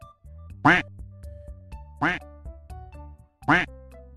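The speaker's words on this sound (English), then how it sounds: "Duck." A duck quacks three times at evenly spaced intervals, loud and close, over a quiet steady musical background.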